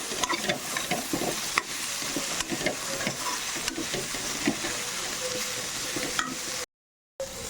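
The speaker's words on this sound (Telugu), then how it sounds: "ఒక స్పూను జీలకర్ర ఇవన్నీ చక్కగా ఫ్రై అయినంత వరకు సన్నటి సెగ మీద పెట్టుకొని ఫ్రై చేస్తున్నాం" Cumin and spices frying in a pan on a low flame, giving a steady close sizzle with soft stirring scrapes throughout, then a short silent gap near the end.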